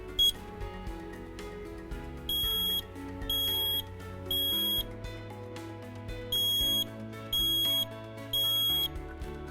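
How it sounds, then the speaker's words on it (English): A smoke alarm, partly muffled by a covering hand, sounds three slow, loud beeps, pauses, then repeats the same three-beep pattern, with music playing underneath. "A smoke alarm gives you 3 slow beeps."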